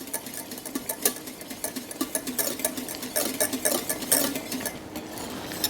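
Spoon scraping and tapping rhythmically in a saucepan of red fruit mixture for a cheesecake topping, a steady run of close, fast clinks and swishes with no voices.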